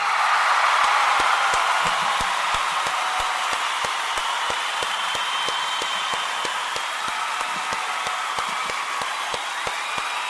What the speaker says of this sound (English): We want to give all of our Kuumba people a round of applause